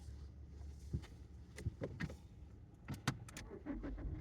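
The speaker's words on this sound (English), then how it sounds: "gotta turn my car on." Keys jangle and clack close by while a car is started, with a run of sharp metallic clicks and taps over low engine-like rumble and background noise.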